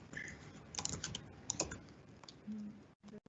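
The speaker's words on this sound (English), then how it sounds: "and type in a new note" Keystrokes on a computer keyboard as a new note is typed, a quick irregular run of light clicks, fairly close and quiet, with brief pauses.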